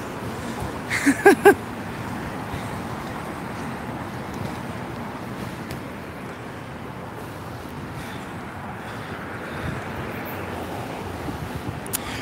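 Steady wind buffets the microphone with a continuous low rumble, joined by a brief burst of a few sharp sounds early on.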